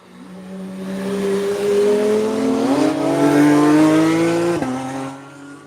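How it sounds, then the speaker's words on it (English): A McLaren supercar accelerates down a hill, its engine note swelling loud and close as it climbs through the revs. Two quick gear shifts break the rising howl before it eases off at the end. "McLaren on the way down the hill."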